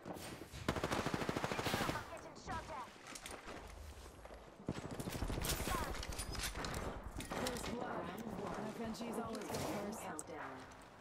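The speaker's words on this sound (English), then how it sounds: "I'm getting shot at." Rapid gunfire from an enemy squad in a shooter video game, dense bursts of automatic fire mixed with footsteps and game effects, loud and nearly continuous, with people talking over it throughout.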